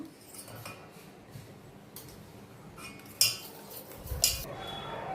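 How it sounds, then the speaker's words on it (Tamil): A spoon works through sweet paniyaram batter with egg and salt in a bowl, giving soft scraping, then a few sharp clinks against the rim near the end, quiet and close, without any voice. "இதை நல்லா மிக்ஸ் பண்ணி விட்டுக்கலாம். சால்ட் போட்டுக்கலாம்."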